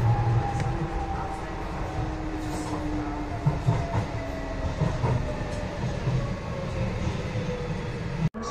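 A train rumbles steadily along the rails with rhythmic clacking and a faint drifting whine, heard from inside the carriage.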